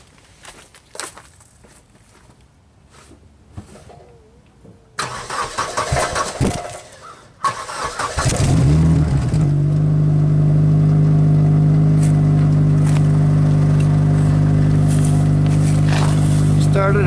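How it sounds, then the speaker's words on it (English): A Suzuki Forenza that had oil leaking into its cylinders cranks and starts after quiet handling noises and footsteps, then settles into a loud, steady idle close by. "I'm going to start it up and see if any smoke comes out of that"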